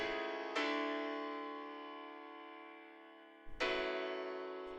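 Addictive Keys virtual piano played dry with no compression: full chords struck one after another, each ringing out and slowly fading before the next lands, close and clear with no voices.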